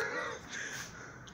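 A crow caws indoors or near a house, its harsh calls moderately close over a steady background.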